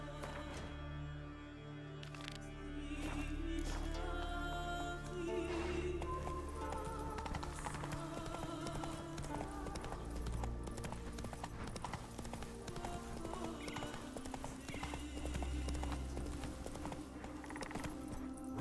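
Roach, a horse in The Witcher 3 video game, gallops in a quick, steady clip-clop of hooves that runs the whole time under a swelling game score, with no talking.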